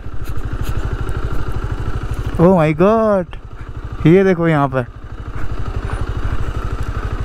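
A motorcycle engine idles steadily up close at Ranamati village in Central Dooars near the India–Bhutan border, its low even pulse running throughout while someone speaks excitedly over it.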